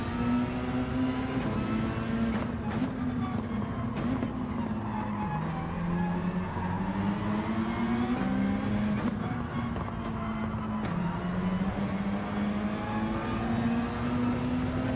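A race car in Gran Turismo 7 holds a loud, steady engine drone that rises with each gear and drops at the shifts, running close and continuous with no talking.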